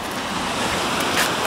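Sea waves wash steadily at the Stegna sea bathing beach in winter, a loud, continuous surf roar with some wind. No voices are heard.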